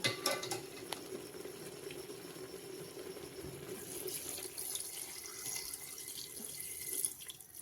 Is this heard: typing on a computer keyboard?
no